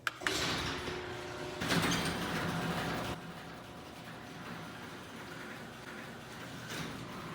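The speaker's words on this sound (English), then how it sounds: "hold on, garage door" A residential garage door rumbling and grinding as it opens, a steady mechanical drone with a louder surge midway, heard from nearby inside a car.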